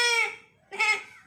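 A boy vocally mimics a baby goat crying, giving two short, high, quavering bleats with a brief pause between them, close and clear.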